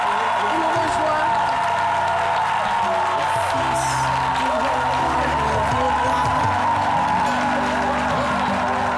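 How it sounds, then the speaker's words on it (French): An audience applauds a singer at length, with dense, steady clapping and cheering on a live midday show. Voices and other studio sound run through it. "je vais vous demander de vous lever pour que nous puissions l'applaudir très très fort"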